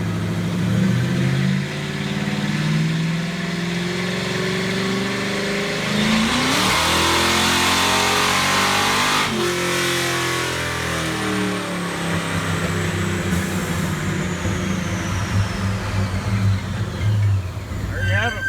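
A Ford Fox with an AOD automatic transmission and nitrous revs hard on a dyno, the engine climbing and shifting through rising pulls, loud and close, with a whine sweeping up near the end.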